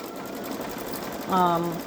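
A Baby Lock Solaris embroidery machine stitches out an Easter design: a low mechanical hum sets in partway through and runs steadily to the end, close and fairly clear.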